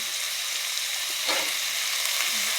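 Potatoes go into oil with softened onion and tomato, a broad steady sizzle with one brief louder crackle near the middle, alone and without voices.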